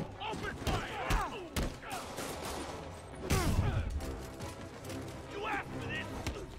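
Enemy gunfire in Marvel's Spider-Man, scattered loud bursts and sharp cracks mixed with thuds and impacts, close and chaotic, partly under shouted voices.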